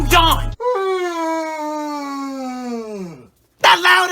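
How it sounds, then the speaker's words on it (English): A loud, drawn-out human yawn, a long sliding moan that falls in pitch over about three seconds. It sits close and alone between brief bursts of voice at either end. "That loud ass yawn."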